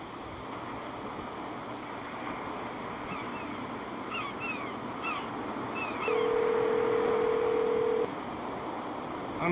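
Steady telephone dial tone after the caller hung up, a single sustained flat tone starting partway through over faint background hiss and chirps, moderately loud and without speech.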